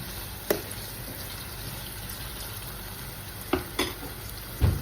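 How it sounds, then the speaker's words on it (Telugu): Spices with a bay leaf frying in oil for an Andhra-style chicken curry, a continuous soft sizzle broken by a few sharp stirring clinks and scrapes. "ఇవన్నీ కూడా మంచిగా బ్రౌన్గా అయ్యే వరకు ఫ్రై చేసుకోవాలి"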